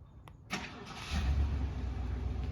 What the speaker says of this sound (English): gonna give the car ignition